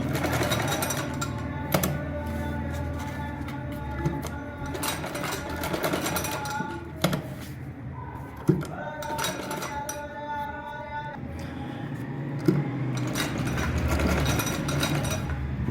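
Sewing machine stitching a shirt neckline, steady rapid mechanical chatter with brief stops and clinks as the fabric is repositioned, close and moderately loud, with a voice speaking faintly at times.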